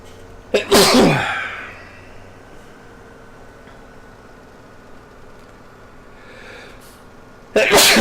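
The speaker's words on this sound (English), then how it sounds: "Sorry about that. I had the sneezes." Two sharp, loud sneezes, one near the start and another right at the end, set against a quiet steady hum. They are triggered by sanding dust from a TV cabinet.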